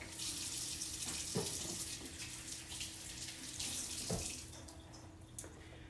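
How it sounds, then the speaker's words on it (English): Water runs from a tap into a kitchen sink while hands are washed under it, a steady close hiss with small splashes and shifts as the hands move through the stream. No voices. "I'm gonna wash my hands really quick."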